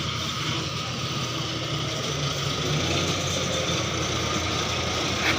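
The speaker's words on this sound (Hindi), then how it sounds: "बिल्कुल साइलेंट ट्रैक्टर है भाइयों" A Mahindra 655 tractor engine runs steadily at a close distance. It gives a continuous, even low rumble and hum with no break across the whole stretch, and no voices are heard over it.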